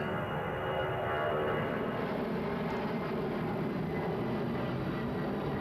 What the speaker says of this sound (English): Extremely loud airplane flyovers as they're coming in to land at Memphis International Airport.